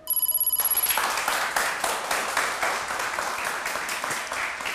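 Studio audience applause on a Turkish word quiz game show, kicking in right after a short electronic ringing tone and holding as dense, steady clapping from the crowd.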